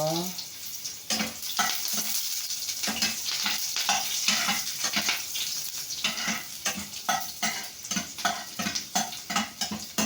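Garlic and onion sauté in a pan, a steady sizzle broken by rhythmic scraping and stirring strokes throughout, close and fairly loud.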